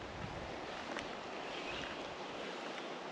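Steady wind gusting outdoors during a Georgia turkey hunt, a constant broadband rush with mild swells and no voices.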